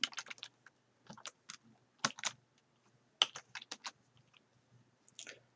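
Close, crisp clatter of a computer keyboard being typed on in irregular bursts of keystrokes with short pauses, while a new folder is named in Microsoft Word 2013; no voices.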